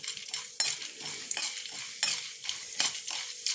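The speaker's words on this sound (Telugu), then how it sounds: "పోపు వేయించాలి" Mustard seeds and cumin crackle and sizzle in hot oil for a tempering, close up, with a spoon scraping and clinking against the pan every second or so.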